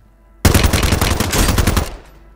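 Rapid automatic gunfire from a submachine gun in Call of Duty Warzone, a loud dense burst of shots lasting about a second and a half before cutting off.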